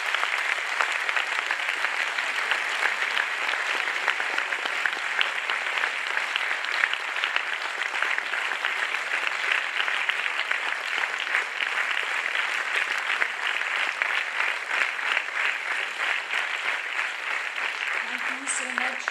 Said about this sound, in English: I would request you to give a very big round of applause for all our speakers